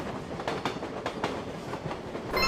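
A passenger train runs along the rails with a steady rumble and a rhythmic clickety-clack of wheels over rail joints. The sound is close and fairly loud, with no voices.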